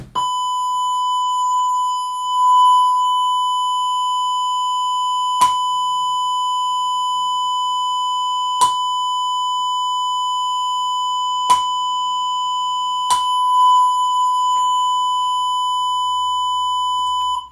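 A steady 1000 Hz sine test tone plays through a headphone amplifier, constant and clean throughout, with a few brief clicks spaced several seconds apart.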